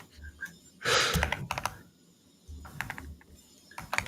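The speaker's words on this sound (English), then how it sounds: "I'm super awesome at typing" Quick typing on a computer keyboard during open-source software development, a burst of rapid clicks followed by scattered key taps, fairly quiet and close.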